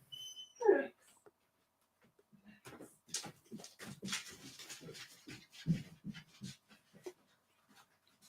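A dog whimpering while being held back indoors: soft, intermittent whines, yips and panting breaths come in short bursts near the listener, with quiet gaps between them.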